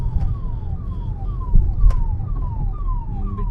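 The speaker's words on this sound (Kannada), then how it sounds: "ಆಂಬುಲೆನ್ಸ್ ಹೋಯ್ತು ನೋಡೋಣ" A loud ambulance siren wails in repeated falling sweeps over heavy traffic rumble, steady and near as the ambulance goes by.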